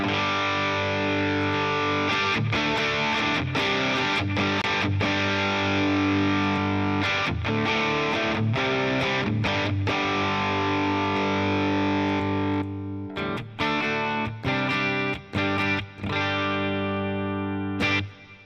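Electric guitar through an Anxiety Overdrive effect on a Headrush rig: heavily overdriven chords ring out loud and sustained, struck repeatedly in a loose rhythm, with brief gaps and choppier hits near the end.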